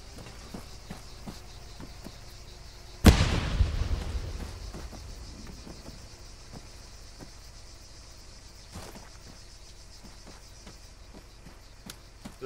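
A single loud grenade blast hits suddenly and its rumble decays over a second or two. Faint insect chirps and light movement continue around it, with a weaker thud later.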